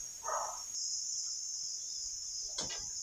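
Steady high-pitched insect drone of cicadas runs unbroken through the whole stretch, loud and close, with a brief rustle early on and a soft thump near the end.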